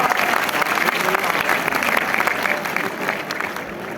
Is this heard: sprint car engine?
no